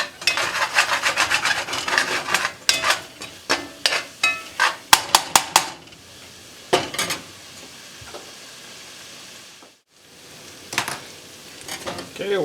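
Spoon rasping and scraping the bottom of a pot while stirring browning onions for Cajun sticky chicken, a run of quick rhythmic scrapes followed by slower, sparser strokes over a faint sizzle.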